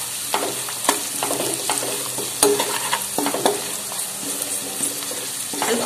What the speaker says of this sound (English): Let me mix everything well.